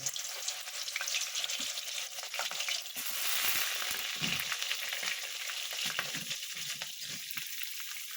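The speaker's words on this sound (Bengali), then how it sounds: "নুন আর হলুদ দিয়ে আমি বেগুনটাকে ভেজে নেব" Eggplant fries in hot oil with salt and turmeric, a continuous close sizzle broken by soft stirring knocks and scrapes against the pan, no one speaking.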